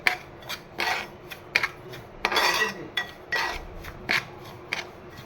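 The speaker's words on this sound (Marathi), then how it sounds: "मस्तपैकी असं आपण हा रवा छान भाजून घेतोय दुधामध्ये." Semolina being roasted and stirred in a pan with milk for prasad sheera, heard as repeated close metal scrapes and clinks of a utensil against the pan in short irregular bursts, with no talk.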